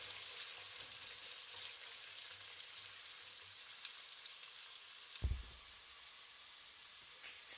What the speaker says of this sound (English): Fry them until they're all golden brown.